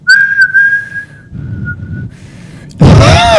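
A person whistles by drawing air inward, producing a thin, wavering sustained tone that drops slightly midway, then gives way to a loud burst of breathy noise and laughter at the end.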